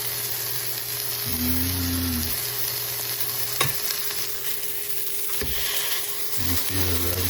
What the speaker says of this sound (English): we'll get her on the frying pan. That's how we hear that sound.